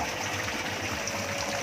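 Water running steadily from a DIY shower pipe rigged along a hot corrugated metal roof, a continuous close hiss and trickle with no voices.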